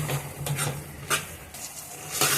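Chicken liver with salt is stirred in a pan, giving a quiet close sizzle with a few soft scrapes and utensil clicks against the metal, no talking.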